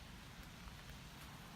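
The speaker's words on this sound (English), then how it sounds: "it's really rainy" Steady rain falls outdoors in an autumn grove of trees, a faint, even hiss of drops with no talking.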